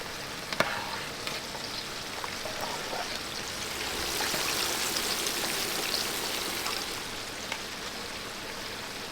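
Chicken pieces bubble in a deep fryer in a Jamaican kitchen, giving a continuous close crackling sizzle like light rain with occasional sharper pops. It swells slightly midway and carries on without talk.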